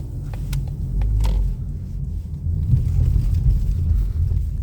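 A car pulls off through city streets in Dnipro, Ukraine, with a steady low engine and road rumble heard from inside the cabin, plus some buffeting and a few light clicks early on. No voices are heard.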